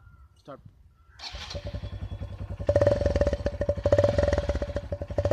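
A motorcycle with a soda can wired onto its silencer to mimic a KTM Duke starts after a faint clatter and settles into a loud, rapid, throbbing exhaust beat, with a voice talking early on.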